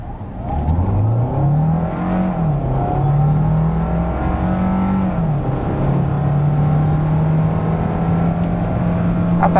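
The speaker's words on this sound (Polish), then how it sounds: "Tak wygląda sprint od 0 do setki." Hyundai Santa Fe 1.6 T-GDI PHEV plug-in hybrid SUV accelerating hard from standstill to 100 km/h, a loud steady engine drone rising in pitch, dipping briefly at gear changes, then climbing again.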